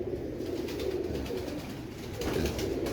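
Several Teddy pigeons, an old breed, coo softly and continuously in a low, throaty murmur, close by and without pauses.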